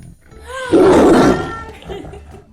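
A human voice imitates a loud tiger roar, one rising, growling burst lasting under a second, close and forceful, then fading into quiet room sound.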